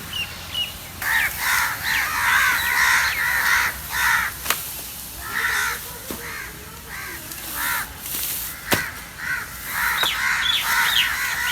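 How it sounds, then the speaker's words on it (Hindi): Several crows cawing in repeated harsh bursts in a village on a rainy day, some nearer and louder, others farther off, with brief pauses between calls. "ये कौवों की आवाज़"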